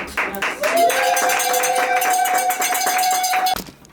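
Guests at a civil wedding ceremony clap in a quick, steady rhythm while a long, high ululating cry rises over the clapping, then everything stops abruptly.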